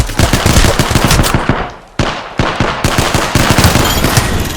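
Apex Legends gunfire in loud, rapid automatic bursts, close and punchy, with a brief pause near the middle before the firing resumes.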